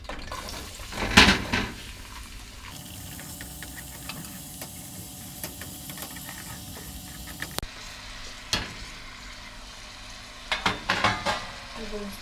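Vegetables stir-frying in a hot pan for a Thai-style chicken and pasta dish, a steady sizzle running throughout with occasional scraping and clattering stirs, louder bursts near the start and end.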